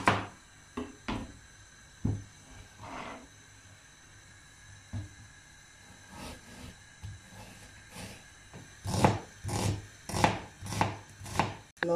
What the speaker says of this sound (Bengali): পেঁয়াজ কাটো।